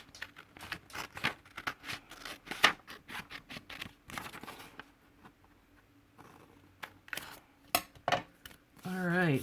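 Scissors snipping paper for a junk journal, with a series of crisp, close cuts in irregular bursts and small handling rustles between them, plus a faint voice in the background.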